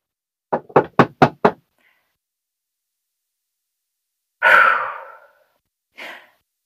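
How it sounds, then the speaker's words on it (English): Five quick raps on a dorm room door, close and sharp, then a pause before a nervous sigh-like breath and a short exhale. "I knock on her dorm room door"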